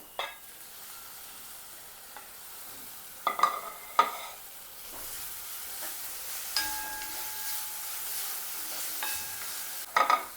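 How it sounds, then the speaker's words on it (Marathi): Tomatoes stirred with sautéed onion in a pan for ragi soup, a low continuous sizzle with a few sharp spatula clacks near the start and end. "कांदा परतून झालेला आहे, आता आपण टोमॅटो घालूया"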